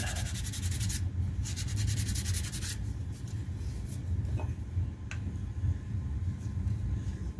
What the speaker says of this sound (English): good way of removing material without using a really aggressive sandpaper like 80 grit sandpaper. Try and smooth that out a little bit.